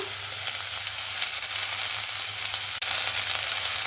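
Two tomatoes, about four green chillies, 15 to 20 garlic cloves and ginger fry in a pan for a chicken dish, giving a constant, bright sizzle broken by one brief sharp knock near the end.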